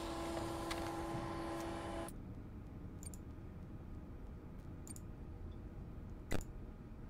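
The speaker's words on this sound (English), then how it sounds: "Okay, that's just the printer." A printer prints in Freddy Fazbear's Pizzeria Simulator, a steady mechanical whir with a tonal hum that cuts off abruptly, followed by sparse clicks and one sharp tick, with no talk.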